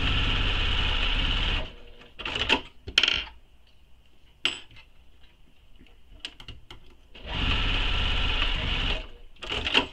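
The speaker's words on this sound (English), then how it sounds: "we're going to baste these raw edges together using the seam allowance given" A sewing machine bastes the raw edges of a crossbody bag together, running in two steady bursts at the start and end with clicks and handling noises in between.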